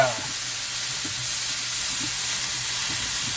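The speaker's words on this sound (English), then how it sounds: "you hear that meat cooking?" Meat for a cheesesteak sizzling on the heat, a steady close frying hiss with faint soft pops running evenly throughout, no talk.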